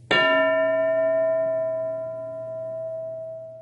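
A single bell is struck once in a classroom language lesson, and its bright metallic tone rings out and slowly fades over several seconds. No one speaks.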